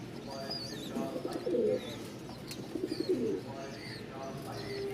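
Pigeons at a pigeon dealer's loft in Mirpur-1, Dhaka, coo in two fuller bursts around the middle of the clip over a steady low background murmur of more birds.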